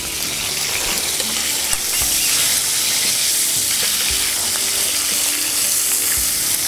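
Fish frying in a pan with mushrooms nearby, a steady close sizzle and crackle running without pause, with occasional small clicks and no voices.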